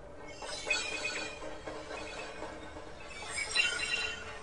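Crystalline, glassy synth tone from Absynth 5 with oscillator 1 shaped by an envelope, glittering bright shimmer swelling and fading twice over a soft lower pad, moderately quiet throughout.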